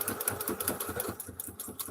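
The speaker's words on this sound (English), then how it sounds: "So we're just sewing up that other side again" Sewing machine stitching a small doll purse, running in a fast, steady mechanical whir with rapid regular needle clatter, close and fairly loud, with no talking.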